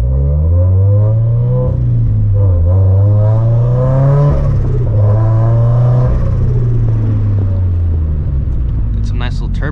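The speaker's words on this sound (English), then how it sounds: "Got some nice little turbo noises here." A turbocharged Toyota GT86 engine drones loud and close throughout, its pitch rising and falling as the car revs and shifts, with turbo whooshes and a spool whistle near the end.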